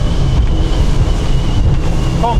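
An Axopar 38 motorboat at speed slices through waves at sea, giving a steady, loud rush of water and engine drone under heavy wind buffeting on the microphone.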